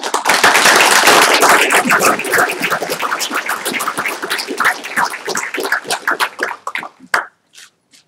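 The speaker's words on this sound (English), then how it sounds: "Let's give her a round of applause." Audience applause at a school district live-streamed meeting, loud close clapping that starts full and gradually thins to a few scattered claps.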